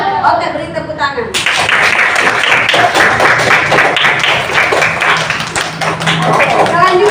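A grade five classroom breaks into clapping right after a teacher speaks, lively and uneven hand claps close by, with voices mixed in under the applause.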